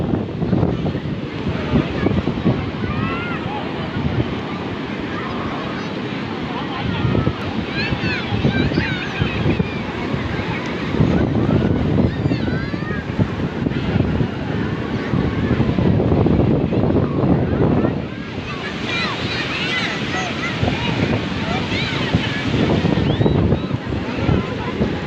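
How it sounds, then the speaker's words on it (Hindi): Strong sea waves surge and wash continuously at a Karachi beach, loud and close, with heavy wind buffeting the microphone and a voice talking over the surf at times. "लहरें बहुत तेज़ हैं।"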